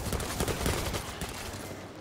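A heavy machine gun fired in World War Z, a sustained, dense burst of rapid gunfire that stays loud and close for the whole stretch, with no pauses and no talk over it.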